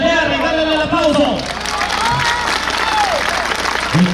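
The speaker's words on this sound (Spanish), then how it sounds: "Estamos haciendo un torneo por aplausos, solamente quiero aplausos." An audience at a fighting rooster tournament claps and cheers loudly, mixed with someone speaking over a PA. The applause thins out into crowd noise.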